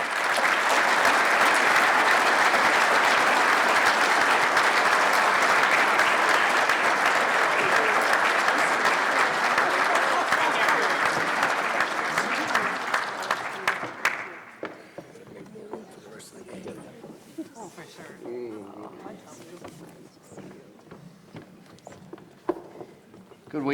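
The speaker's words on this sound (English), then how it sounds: "Could we have one more round of applause for this wonderful family?" Gala audience at a scouting council centennial event gives sustained applause for the Dahl family, loud and even for about fourteen seconds before dying off into footsteps, shuffling and murmured talk.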